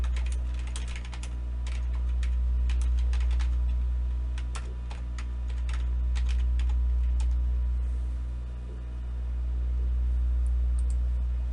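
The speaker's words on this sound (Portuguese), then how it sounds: "inicio a minha digitação." Computer keyboard keys click in irregular bursts of fast typing, close and fairly quiet over a steady low electrical hum.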